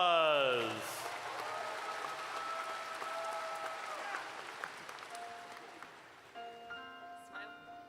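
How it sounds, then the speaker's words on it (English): Applause from the audience at a university undergraduate commencement, a sustained wash of clapping that fades out as a singing voice and instruments begin. "Let's give them a round of applause."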